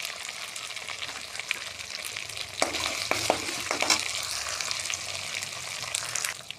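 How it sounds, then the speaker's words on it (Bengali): Poppy seed paste fries in a pan, a close, bright sizzle with a burst of sharper crackles and spoon scrapes midway before settling back to a steady hiss. "পোস্ত বাটা দিয়ে আস্তে আস্তে বসতে থাকবো হালকা হালকা করে।"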